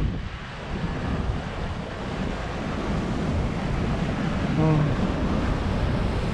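Ocean waves wash steadily along the seawall shore at Wolmido, Incheon, a continuous moderate surf rumble mixed with wind noise on the microphone, with a brief tonal sound near the end.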